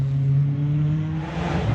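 A Cosworth race car accelerates hard, its engine holding a loud, steady droning pitch that climbs slightly over a brief moment, heard close with no talking.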